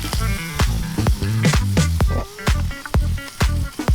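Garlic chicken shallow frying in a pan of oil crackles and sizzles loudly up close, with repeated sharp pops and spits over a steady hiss.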